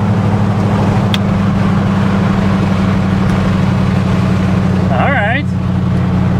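A Ford F150 pickup drives with a steady low engine drone throughout, and a faint whine rises briefly near the end as a voice speaks over the engine.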